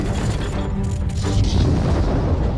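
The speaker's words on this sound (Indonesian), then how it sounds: "sebuah ledakan keras mengguncang area luar plaza" A loud, booming rumble fills the whole stretch, dense and sustained like a big blast with debris and reverberation rolling on.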